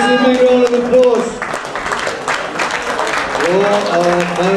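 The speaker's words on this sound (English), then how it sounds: "let's give a big round of applause" An audience at an amateur boxing event applauds, with crowd clapping under a loud voice on the public address system and murmuring voices throughout.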